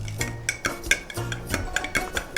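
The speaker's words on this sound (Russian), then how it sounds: "Все это мы перемешиваем тщательно." Milk, egg and salt are stirred in a bowl with a utensil that clinks repeatedly against the sides, in quick irregular strokes with sharp little taps, close and unaccompanied by speech.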